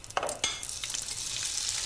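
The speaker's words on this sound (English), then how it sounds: "Grab a spaghetti strand, and if it sizzles, you know it's at the right temperature" A spaghetti strand sizzling in a hot frying pan, a close, steady hiss with a couple of sharp crackles near the start.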